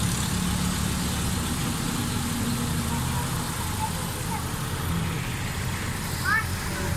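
A 2007 Honda City automatic idles steadily after a head gasket change and tappet clearance adjustment, a low, even, fairly quiet engine hum with no audible misfire, while someone talks over it.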